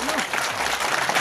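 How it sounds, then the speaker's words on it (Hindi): Crowd applause at a devotional village festival and procession, a brief, dense burst of clapping with voices mixed in beneath it. "इनके लिए जोरदार तालियां।"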